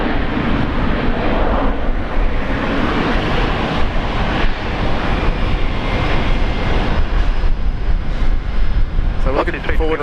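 A Korean Air airliner at Brisbane Airport gives a loud, continuous jet engine roar throughout, a dense broadband rush that holds steady.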